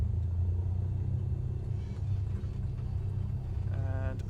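A simulated airliner brakes on the runway in Microsoft Flight Simulator, producing a steady, loud low rumble of rolling and engine noise that slowly eases, with a faint tonal chime near the end.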